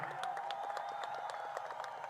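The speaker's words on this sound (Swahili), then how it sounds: "Makofi mengi tena." An audience at a Tanzanian ceremony launching construction of the Kigoma–Tabora SGR railway applauds in a brief, steady patter of many hands clapping, moderately distant and even throughout.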